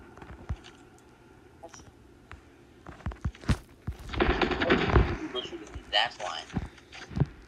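Rapid bursts of automatic gunfire from a Call of Duty Mobile match crackle near and far, scattered single shots building into a dense exchange midway, with a player's voice heard over the shooting.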